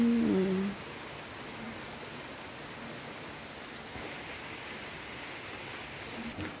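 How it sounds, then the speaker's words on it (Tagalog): Heavy rain falls in a steady, dense wash of noise that stays constant throughout, with a short human sound at the very start. "Yan, lumakas ang ulan."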